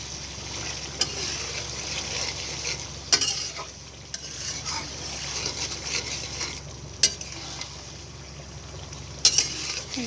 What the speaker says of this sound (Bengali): আমরা নাড়াচাড়া করে দেখছি